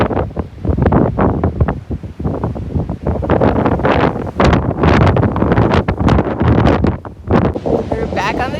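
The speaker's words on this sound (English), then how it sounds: "This wind is crazy." Strong gusty wind at Newfound Gap on the Appalachian Trail buffets the microphone in loud, rumbling waves that last the whole clip, with a voice heard under the roar.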